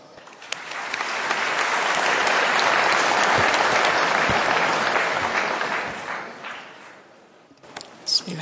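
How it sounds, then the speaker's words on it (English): Loud, sustained audience applause welcoming a speaker at a seminar, swelling to a steady roar of many clapping hands, then fading out near the end. "Let's welcome distinguished Madam Sri Hudiastuti with a warm round of applause"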